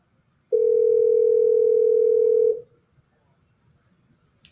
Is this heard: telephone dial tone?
yes